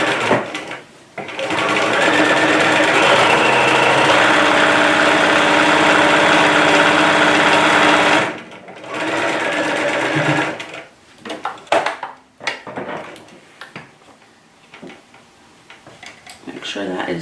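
A sewing machine runs steadily for several seconds, stitching along an appliqued pocket for McCall's pattern 2947, then stops, followed by scattered handling clicks and fabric rustle.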